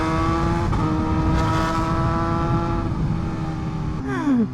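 A BMW HP4 Race motorcycle engine hums steadily nearby at a bike meet, then rises into a brief rev near the end, fairly loud and alone without speech.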